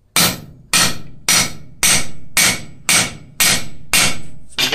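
Eight sharp, evenly spaced hammer blows ring out on a rivet heading block as rivets are set on a forged blacksmith cross, each strike loud and close with a brief metallic ring decaying before the next.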